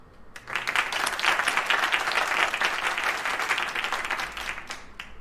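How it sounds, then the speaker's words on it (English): A crowd gives a round of applause for a guest on a games-community show. Clapping swells in quickly after a brief pause, stays dense and lively for several seconds, then thins toward the end. "let's have a round of applause for our guest"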